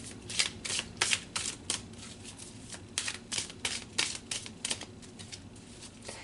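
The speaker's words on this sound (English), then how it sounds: "Let's pull you a couple more cards." Tarot cards riffle and slap together in a close, soft shuffle, a series of crisp papery bursts with brief pauses between them and no talking.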